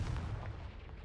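A Confringo spell blast in the Hogwarts Legacy video game lands as a single deep, booming explosion that quickly decays into a rumbling tail.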